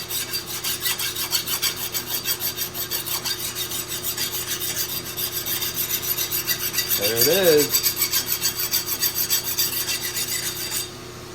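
Steel file rasping across a hardened steel knife blade, testing the decarburized surface layer against the hard steel beneath; a steady, close scraping rasp runs throughout, with a brief voice partway through.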